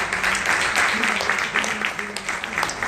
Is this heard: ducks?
no